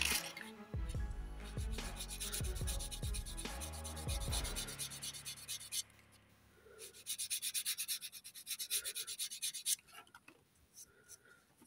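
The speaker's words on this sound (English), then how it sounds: "And now let's sand it a little bit." Sandpaper rubs over a small glued gap on a wooden model lifeboat in quick rhythmic strokes, first dense and close, then lighter scratchy passes after a short pause, fairly quiet with no talking.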